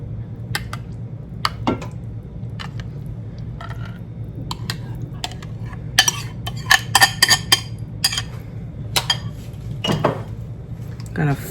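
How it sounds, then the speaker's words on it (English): Utensil scraping and clinking against a cooking pot while a mixture is stirred and folded in, with scattered sharp metallic taps and clatters, busier in the second half, over a steady low background hum. "I'm just off camera stirring it in."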